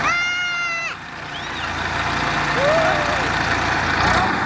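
A tractor engine runs steadily as it is driven out of a rice paddy field, a continuous low drone with a brief beeping at the start and a voice briefly over it.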